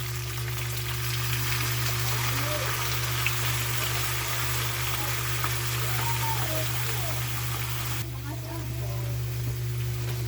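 Dried fish (tuyo) frying in a pan while humba is cooked, a steady close crackling sizzle with scattered pops running throughout, under a constant low hum.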